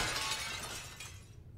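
Glass shatters loudly in the video game Little Nightmares II, a sharp burst of breaking glass that decays and fades away over about a second and a half, heard alone with no voices.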